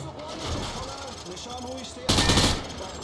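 Video game gunfire from Call of Duty Modern Warfare 2 as rounds penetrate light cover: rapid automatic shots under a speaking voice, with a louder burst near the end.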